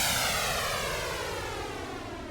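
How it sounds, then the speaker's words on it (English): Whooshing noise sweep that slowly descends and fades, a smooth continuous synthetic swoosh like air rushing past, heard alone. "It makes a riser out of noise. You can also reverse that direction"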